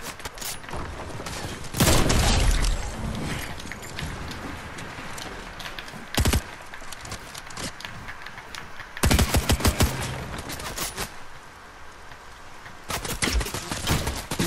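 Gunfire in the battle royale game Fortnite, several loud automatic bursts cutting in sharply at intervals between quieter stretches.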